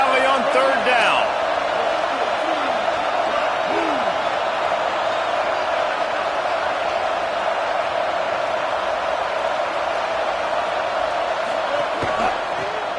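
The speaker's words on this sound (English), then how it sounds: "Here comes the noise from this big crowd in Happy Valley on 3rd down." A big football crowd in Happy Valley roars steadily on third down, a dense sustained wall of stadium noise that holds level throughout, with a few brief sharper calls near the start.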